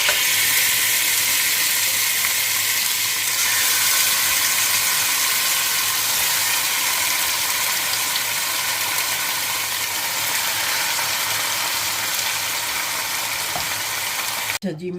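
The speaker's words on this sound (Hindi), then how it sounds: "अब मैं इसमें गोश्त डाल देती हूँ और इसको भूनूंगी मैं" Marinated mutton with onions frying in a pan, a steady loud sizzle that continues evenly throughout with a faint stir near the end.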